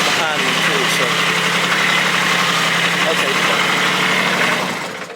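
A motor grader's diesel engine idles steadily at close range, a continuous rumbling drone with broadband rattle that holds level for several seconds before easing off at the end, with a voice speaking over it.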